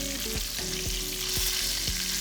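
Duck breast frying in a hot pan, a steady bright sizzle with several soft periodic taps or stirs against the pan, no talking.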